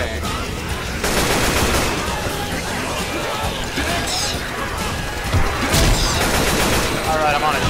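Rapid bursts of gunfire from Left 4 Dead 2 fill the whole stretch, loud and dense, with crashing impacts layered in and game action churning underneath.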